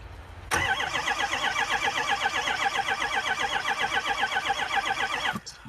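A Ford F350 with a 6.0L diesel engine cranks steadily for about five seconds with a fast, even rhythmic chug, loud and close, then stops abruptly without catching.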